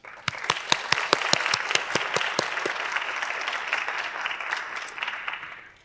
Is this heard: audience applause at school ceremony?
yes